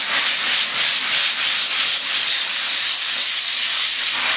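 Belt sander paper worn by hand over a surface ahead of epoxy resin coating, producing a loud, steady, close hiss of abrasive rubbing in even back-and-forth strokes.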